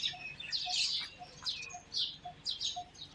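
Small birds chirp and tweet in short bursts, fairly faint and a little distant, over a quiet morning outdoor background where chickens and crows are about.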